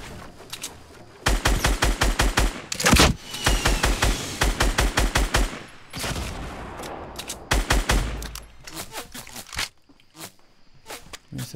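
Video game gunfire rattles in fast automatic bursts of loud, sharp shots, with short pauses between volleys, and a voice talks briefly between the bursts.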